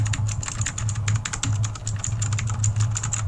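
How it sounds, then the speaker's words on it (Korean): Rapid, clicky keystrokes on a loud blue-switch mechanical keyboard, a steady stream of sharp clacks close up over a low electrical hum. "자 이게 청축 키보드입니다"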